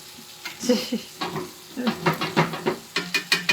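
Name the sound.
hand-cut potato fries frying in beef tallow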